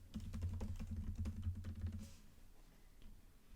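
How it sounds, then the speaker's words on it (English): Fast typing on a computer keyboard while entering an Instagram username in a desktop search bar, a quick run of close, quiet key clicks that stops after about two seconds, followed by faint room noise. "so we will type that into the search bar"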